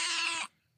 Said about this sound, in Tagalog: yung alaga kong pusa